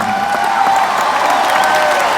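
Loud crowd applause with cheering, a steady wash of clapping and voices throughout, with a sustained tonal hum underneath.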